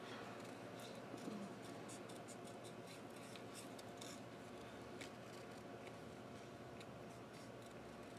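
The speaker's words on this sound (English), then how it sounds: "I'm going to fussy cut this out." Scissors fussy cut a paper greeting with a quiet, close string of small snips and paper rustles at an uneven rhythm.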